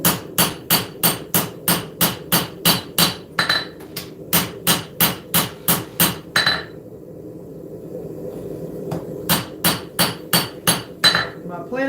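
A hammer planishes a hot forged knife blade with rapid, evenly spaced ringing metallic strikes, loud and close. The strikes come in bursts separated by brief pauses.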